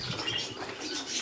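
Pigeons arriving at a racing loft, with faint wing flaps, soft cooing and light chirps over steady outdoor background noise, no talk.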